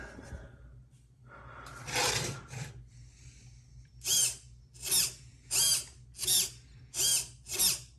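A 35 kg steering servo motor whirs in short bursts, several quick whines in a row with pauses between, close and fairly quiet.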